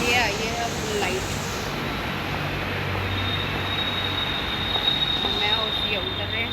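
Metro train pulling into a station, a steady loud rumble with rising and falling whine held throughout under crowd noise, with voices talking nearby.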